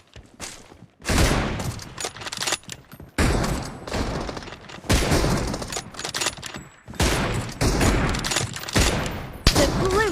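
Rapid sniper rifle fire in the BGMI battle game, an M24, with bursts of loud close shots and echoing reports packed densely across the stretch, only a brief quiet gap near the start.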